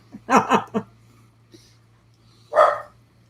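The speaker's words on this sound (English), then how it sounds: "Now the dog's going to bark too." A dog barks indoors, a quick burst of three or four close, loud barks followed after a pause by one more sharp bark, with a faint hum in the background.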